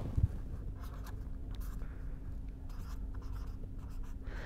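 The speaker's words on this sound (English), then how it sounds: "So, let me write this first." A pen or marker writes out the Navier-Stokes equation in a quiet room, a faint continuous scratching of strokes with brief pauses over a low hum.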